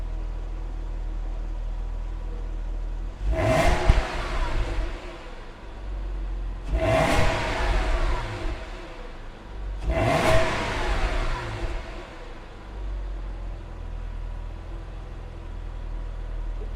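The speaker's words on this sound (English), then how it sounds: "So now we can give it a couple more revs" A 2004 Porsche Boxster 550 Spyder S engine revs three times while parked, each rev a quick rising roar that falls back to a low idle, evenly spaced and close, with no talk.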